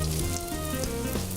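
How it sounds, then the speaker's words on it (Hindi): Puri deep-frying on a tawa in hot oil, a steady dense sizzle and crackle with bubbling pops, close and fairly loud throughout, no voices. "पूरी फ्राई भी हो रही है"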